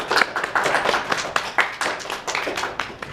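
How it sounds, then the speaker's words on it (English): An audience at a furry convention storytelling panel claps for a storyteller, a steady close burst of many hands at an even pace that holds for a few seconds with no talk over it. "Let's give a round of applause for Shiloh."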